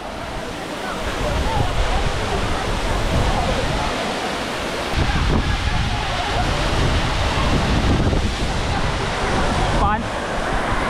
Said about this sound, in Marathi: पाणी बघा कसलं वरून पडतंय.